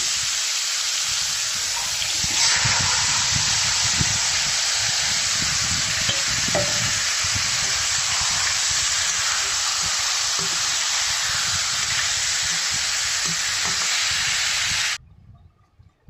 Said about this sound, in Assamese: এতিয়া মেৰিনেট কৰি থোৱা মাংসখিনি তেলখিনি লৈ ভাজিম